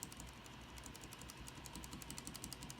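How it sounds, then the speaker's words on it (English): Vintage Cherry MX Black switch pressed repeatedly inside a bare keyboard case, giving a steady run of quiet, close mechanical clicks and clacks with no talk. "Here's what the switch sounds like in the case."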